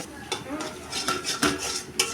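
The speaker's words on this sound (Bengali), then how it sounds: "আমি ডিম একদম ঝুড়া ঝুড়া করে ভাজা নিচ্ছি" A single egg is stirred and scrambled in a pan with a metal utensil. Sharp scraping clinks and taps land in an uneven rhythm over a faint background sizzle.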